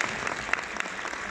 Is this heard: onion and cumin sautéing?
no